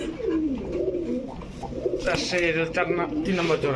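Rajshahi Giribaj pigeons coo in soft, low repeated phrases close by, with someone talking over them throughout.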